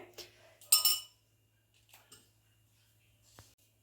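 A spoon clinks against a pot or bowl while cardamom and sugar powder are added to pineapple set to boil for pineapple kesari bath: a few light taps, then a quick bright cluster of clinks, long quiet, and one last faint tap.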